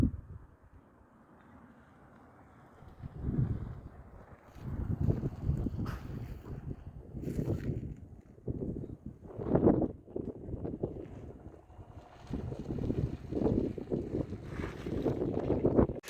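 Blustery January wind buffets a microphone at a commercial fishing pier on the Maine coast, coming in irregular loud gusts and low rumbling bursts, with quieter gaps between them.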